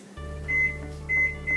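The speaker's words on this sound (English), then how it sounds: "you put it in the microwave until it melts" A microwave oven hums steadily while melting butter, a constant low drone with a few faint beeps over it, and no talk.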